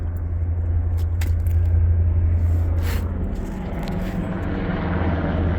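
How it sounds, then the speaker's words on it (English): A low, steady helicopter engine drone with a rumbling throb passes overhead from a nearby helicopter field, continuous for several seconds with no talking. "There goes a helicopter from the helicopter field behind me."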